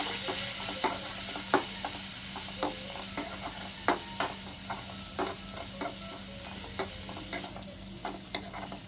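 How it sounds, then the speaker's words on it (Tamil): Finely chopped onion fries in a pan for appalam kuzhambu, with a steady sizzle and regular scraping stirs of a spoon against the pan every second or so, close up and with no voices. "பொடி பொடியাக கட் பண்ண வெங்காயம் சேர்த்துக்கலாம்."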